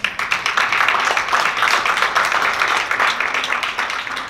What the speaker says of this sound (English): Clap for these kids in here, man.